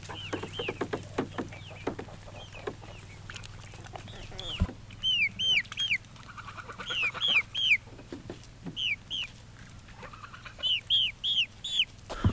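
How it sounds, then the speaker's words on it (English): Chickens cluck and squawk in repeated bursts, some calls rising sharply, over a steady low hum with scattered rustling in between. "I'll show you some of our chickens"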